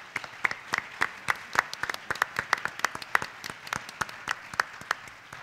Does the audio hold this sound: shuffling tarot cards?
no